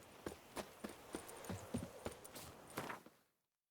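Horse hooves clip-clop in a steady walking rhythm in the video game The Witcher 3: Wild Hunt – Blood and Wine, close and clear, with about a dozen hoofbeats before the sound cuts off abruptly.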